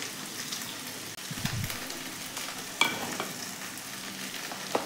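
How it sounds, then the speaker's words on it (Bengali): Chopped onion with eggplant and potato frying in a pan, a soft steady sizzle with occasional crackles and a few stirring knocks, fairly quiet and without talk. "এর ভেতরে আমি পেঁয়াজ কুচি দিলাম, পেঁয়াজ কুচিটাকে একটু ভাজবো।"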